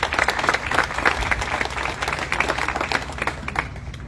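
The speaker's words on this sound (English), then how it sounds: "Let's give him a round of applause" An audience at a golden spike ceremony applauds the new county administrator with dense, continuous clapping from a crowd that holds steady for the whole stretch before tapering slightly.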